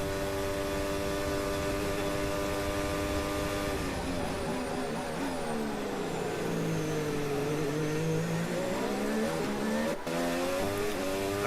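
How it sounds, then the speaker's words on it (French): Formula 1 car at the Miami Grand Prix qualifying, engine note dropping as it brakes into a corner then rising progressively as it re-accelerates out, loud and continuous with tyre noise, a brief sharp crack near the end. "on a entendu la progressivité de la réaccélération absolument nécessaire pour ne pas patiner"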